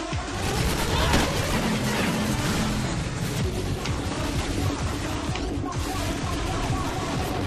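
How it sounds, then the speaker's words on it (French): Dense, loud video-game gunfire and explosions roll on without pause, a chaotic barrage of turret shots and blasts filling the whole stretch. "La tourelle elle fait le travail."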